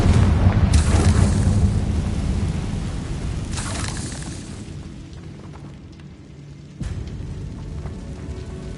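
A Confringo blasting curse explodes in Hogwarts Legacy, a loud rumbling boom that fades slowly, followed by a second sharp thud near the end.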